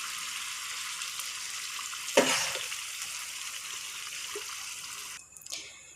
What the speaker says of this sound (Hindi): अब जो हमारे पास यखनी वाला शोरबा बचा था जिसमें हमने गोश्त को उबाला है